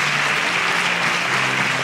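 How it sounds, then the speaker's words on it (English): Steady applause fills the room at a quiz competition show with prize giveaways, a dense, even patter of many hands clapping at moderate loudness with no voices over it. "A round of applause for her."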